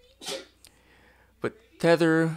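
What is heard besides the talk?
sneeze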